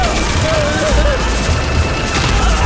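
A loud gunfire volley in a Hindi-dubbed Shaun of the Dead film, heard as a dense, continuous roar of rapid shots with booming undertones and no pauses.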